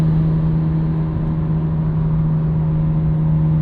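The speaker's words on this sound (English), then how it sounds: "That little pop and burble from the exhaust, which I love." Exhaust of a 1999 Nissan Skyline R34 GT-R twin-turbo, a loud steady drone with low burbling under a constant engine hum, close and continuous throughout.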